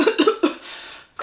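A voice imitates a fit of coughing, a few quick close-up hacks followed by a drawn-out choking breath.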